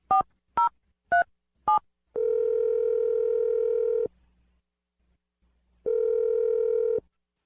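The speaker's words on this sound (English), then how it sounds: "So we're going to dial the phone number right now." Four short telephone keypad tones beeping in quick succession, then a steady ringback tone in two long bursts separated by silence, clear and close on a phone line.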